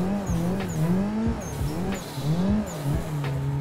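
A drifting car in the Assetto Corsa racing game, its engine revving in waves with repeated tire squeals as it slides, loud and continuous with no talk.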